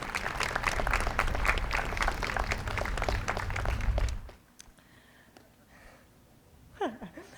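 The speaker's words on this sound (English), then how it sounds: "please give a round of applause to all of the caregivers who are here with you today" A crowd of 8th graders and guests claps loudly and steadily at a school moving-on ceremony for several seconds, then the applause stops abruptly, leaving a quiet room and a brief voice.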